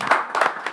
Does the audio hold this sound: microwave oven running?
no